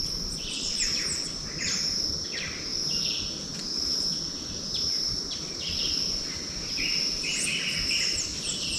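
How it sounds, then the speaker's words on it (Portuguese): Birds chirp and sing at sunrise near an old Tupi-Guarani village, repeated bright calls over a constant shrill insect drone, outdoors with no talking. "Ó o som do passarinho."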